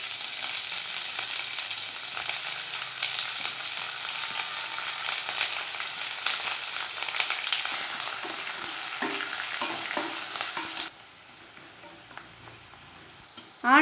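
Chopped large onions frying in oil in a pan, with a loud, steady close sizzle and occasional stirring clinks toward the end before the sound drops sharply quieter.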